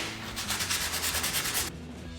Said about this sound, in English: Power sander, let's go.